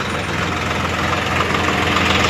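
A tractor engine idles while parked in a village, with a loud, steady low rumble and a continuous chugging vibration and no talk.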